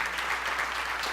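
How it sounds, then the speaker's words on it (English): An audience claps at a fireside chat during a diversity and inclusion summit, a brief, even burst of applause lasting just over a second. "Who are you clapping for?"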